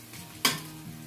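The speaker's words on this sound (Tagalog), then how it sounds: "Medyo golden brown na yung bawang ko." Garlic frying in a pan until golden brown gives a short burst of sizzle and stirring scrape that peaks sharply, then fades into a low background sizzle, close and fairly quiet.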